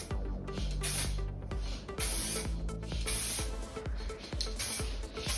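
A spray gun hisses while painting a motorcycle fairing during restoration, with close, loud bursts of spray repeated in a steady rhythm and brief pauses between passes.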